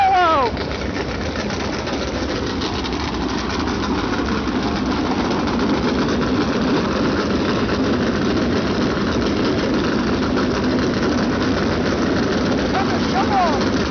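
Vintage race car engines at the 2025 Vogler Classic start up and run, producing a steady, loud, droning roar that holds without a break under a muffled crowd and voices.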